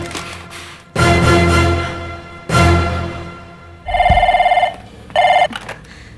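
An old-style telephone bell rings in two bursts, a longer ring then a shorter one, loud and close, following louder music or sound-effect swells in a domestic drama scene.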